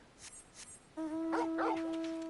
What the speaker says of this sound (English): Oh, and he barks when he shows up.